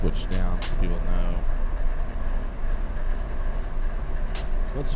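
A train rolls along rails in a railroad simulation game, a steady, loud rumbling run with faint rhythmic clacking throughout, no voices.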